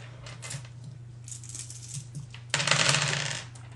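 Dice tumble onto a tabletop during a tabletop role-playing session, a short bright clatter that swells near the end over a steady low hum, with faint rattles before it and no talking.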